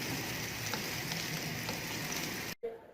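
Onion frying in melted ghee in a pan, a dense, steady sizzle with fine crackling for about two and a half seconds, close and fairly loud, then a sudden cut to near quiet with a faint bump.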